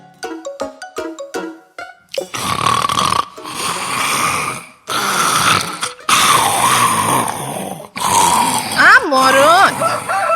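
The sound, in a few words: snoring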